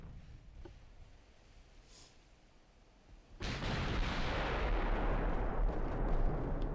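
Battleship guns fire during a naval battle in the game Ultimate Admiral: Dreadnoughts, a deep rumbling boom that swells suddenly and holds as a loud, sustained roar.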